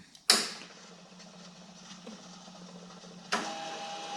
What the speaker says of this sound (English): And we'll see if we get some wire coming through here.